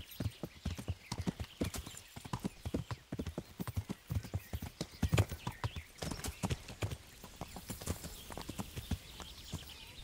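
Horse hooves clip-clop in a quick, uneven rhythm for about ten seconds, fairly close, with an occasional snort or whinny, in the video game Kingdom Come: Deliverance.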